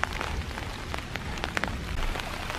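Rain falling outdoors in Iroquois Park on a dark January morning, a steady close patter of drops striking surfaces with scattered sharper taps, no voices.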